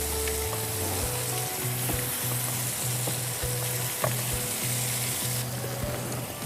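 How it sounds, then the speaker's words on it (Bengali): Ingredients for chicken mushroom masala shallow frying in a pan, a steady close sizzle with regular scraping and tapping from stirring throughout, no voices. "একটু শ্যালো ফ্রাই করে নিলে কাঁচা ভাবটা থাকে না।"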